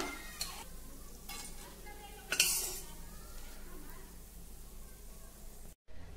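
Hot oil gently sizzles in a pan as fried chillies are lifted out with a spoon, with light metal scrapes and a brief clink of the spoon against the pan, faint and steady under quiet background.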